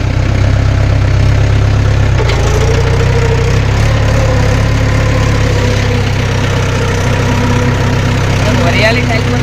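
A farm tractor engine idling loud and close, a steady low rumble with mechanical knocking that holds throughout, with a slight change in tone early on and some voices underneath.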